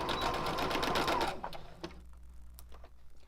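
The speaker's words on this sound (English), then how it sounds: "sew all the way down until you meet your existing stitch" A sewing machine stitches a skirt seam with a 5/8 inch seam allowance, running steadily and loud for about a second and a half, then stopping and leaving a quiet, faintly clicking background.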